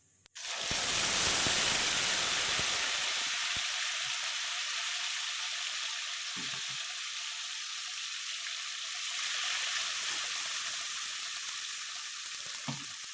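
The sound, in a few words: tomato and green chilli paste frying in oil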